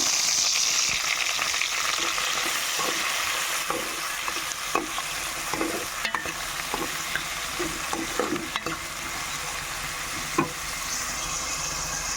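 Onion, green chili and tomato fry in a pan with a steady, close sizzle, broken by the scrape and clack of a spoon stirring now and then.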